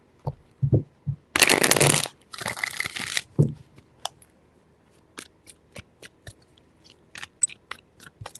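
Two bursts of tarot card shuffling, each a dense riffle lasting about a second, followed by scattered soft taps and clicks of cards being handled nearby.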